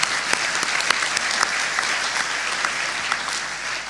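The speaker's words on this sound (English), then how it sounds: "that alone gives a round of applause" An audience at a military change of command ceremony gives a dense, sustained round of applause, an even wash of many hands clapping with a few sharper claps standing out.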